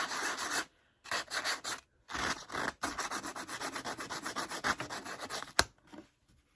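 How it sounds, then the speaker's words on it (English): Sandpaper rubs lightly along the edge of a pink-painted magazine rack in short, close, scratchy strokes, separated by brief pauses, with no talk. "I'm lightly sanding away the pink."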